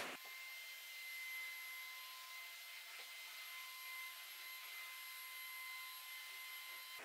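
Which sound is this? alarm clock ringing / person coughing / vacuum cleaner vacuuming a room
vacuum cleaner vacuuming a room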